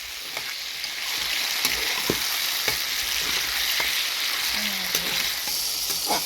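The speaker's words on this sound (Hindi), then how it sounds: "इसमें हम फ्राई कर लेंगे टमाटर। टमाटर को भी फ्राई कर लेंगे अच्छे से" Tomatoes fry with onions in a pan for quince apple curry, a steady close sizzle and crackle with faint clicks of stirring running throughout, no voices.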